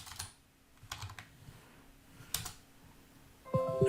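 Computer keyboard typing in short bursts of keystrokes spread across the clip, fairly faint, with a brief louder electronic tone near the end and no talking.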